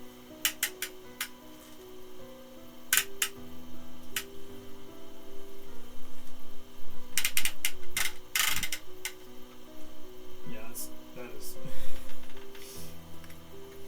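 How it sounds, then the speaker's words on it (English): Ratcheting joints on a large Transformers Legacy Metroplex toy figure click in short bursts of sharp, close ticks, scattered across the clip with pauses between and a faint background hum. "Chunky ratchets."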